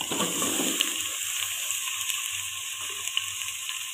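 Steady crackling sizzle of chicken frying in a hot pan for haleem, continuous and close, with faint stirring scrapes and no voices.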